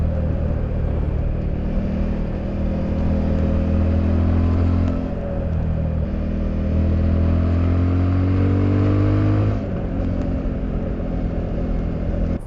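A Suzuki V-Strom 1050 DE motorcycle engine pulls hard through rising revs on an open road, its tone climbing, dipping at a gear change and climbing again under steady wind rush, loud and close.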